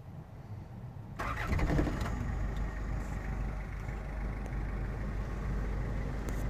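A 1993 Toyota Estima Previa turbo diesel engine cranks and catches, then settles into a steady, fairly quiet idle, heard close by with no talking.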